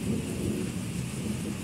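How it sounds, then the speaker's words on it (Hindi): Heavy rain pours steadily with deep rolling thunder rumbling continuously beneath it, a dense, constant roar with no voices. "और बिजली है बहुत ही ज़ोर से बज रही है"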